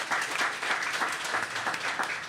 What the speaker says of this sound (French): Oui, on peut applaudir Le Normandie.